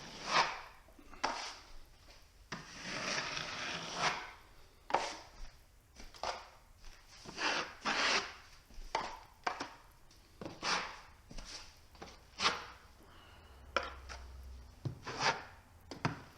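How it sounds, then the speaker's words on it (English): Repeated scraping strokes of a 12-inch drywall taping knife against a 14-inch stainless steel mud pan, rough rasping swipes coming in an irregular rhythm, close and fairly quiet, with no talking. "I'm using a 12-inch drywall taping knife and a 14-inch mud pan, stainless steel."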